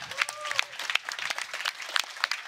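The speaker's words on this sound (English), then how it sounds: "I think we can get a round of applause for everyone" Applause from an audience at a Deadman Mode Summer Invitational event, a steady patter of many hands clapping with scattered sharp claps and a couple of faint whistles.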